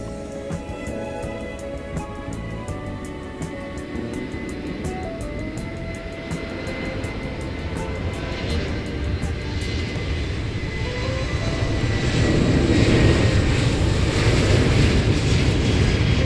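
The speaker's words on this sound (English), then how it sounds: "The beautiful Cathay Pacific livery. Flight 417, an Airbus A330-300 on its way to Hong Kong." A Cathay Pacific Airbus A330-300 at Seoul Incheon Airport, its jet engine rumble building slowly from a moderate drone to a louder, broad roar toward the end, with rising whine tones early on.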